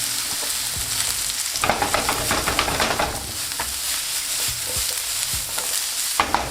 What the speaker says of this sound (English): Now when the oil is nice and hot, we're gonna throw in our mushrooms.